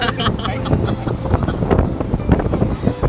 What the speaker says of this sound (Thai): ลมเย็นมากตอนนี้